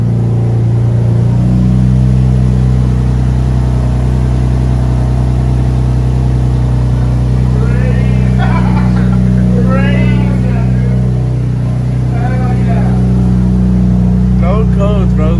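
A JDM car engine, freshly fitted with swapped throttle bodies, runs with a steady close hum and low drone throughout, while people talk over it in the second half.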